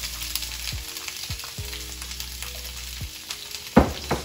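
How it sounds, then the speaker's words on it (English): Peppers and onions fry in oil in a pan with a steady sizzle, broken by a few sharp knocks and scrapes of a utensil and one louder clatter near the end. Nobody talks. "I'm gonna go ahead and cook these up. All these pepper and onion."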